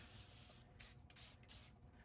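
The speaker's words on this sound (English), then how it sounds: "So now I'm going to spray down my paper a little bit" Water misted from a spray bottle onto art paper during a mixed-media watercolour project, a few short hissing bursts close by with no talking.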